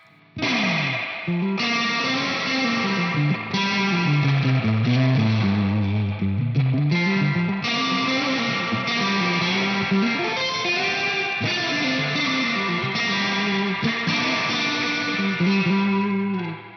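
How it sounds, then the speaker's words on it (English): Electric guitar played through a TC Electronic Combo Deluxe 65 amp with the reverb turned up to 10, a sustained melodic line washed in heavy, long reverb tails that ring on continuously and loudly for the whole passage. "Let's just try cranking that up to 10 to check out this sound."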